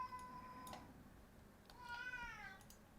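A domestic cat meows twice in a quiet indoor room, a short call followed by a longer drawn-out one, faint and alone with no talking.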